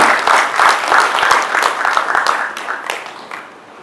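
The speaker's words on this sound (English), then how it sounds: "please a round of applause for him" A crowd bursts into applause for the chairman at a formal gathering, dense rapid clapping from many hands that stays strong and gradually tapers off toward the end.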